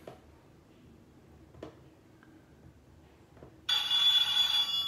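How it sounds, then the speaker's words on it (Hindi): A telephone rings on a Deal or No Deal game show, a loud electronic ring bursting in suddenly after a few faint ticks and soft background noise. "फोन आ गया"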